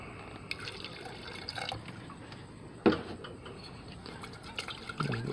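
Water swirled and poured to rinse nitric acid solution from a vessel during karat scrap gold refining, faint close trickles and drips with one sharper splash midway.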